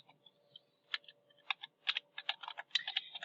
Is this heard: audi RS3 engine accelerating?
no